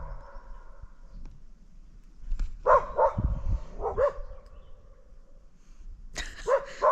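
Dogs on a Portuguese homestead bark at nearby wildlife outdoors: several short bursts of barking come in two or three clusters, moderately close over a quiet background with no talking.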